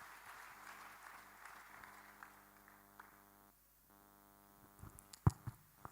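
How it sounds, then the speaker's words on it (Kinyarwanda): A church congregation applauds in praise during a worship service: soft, distant clapping over a low sustained hum, swelling into a few sharper bursts near the end. "Tukoma amashyi dushima Imana."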